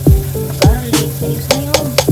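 Onions going into a hot frying pan, with a steady sizzle under repeated sharp scraping and stirring knocks of a utensil against the pan, close and fairly loud.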